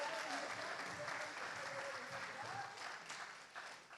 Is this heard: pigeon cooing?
no